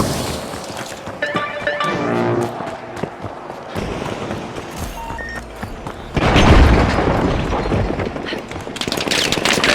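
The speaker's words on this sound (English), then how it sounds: "Throwing goo grenade!" A goo grenade thrown during a multiplayer match of the video game The Finals, landing amid loud game-action booms and crashes, with a heavier burst of impact noise partway through and a busy, dense mix throughout.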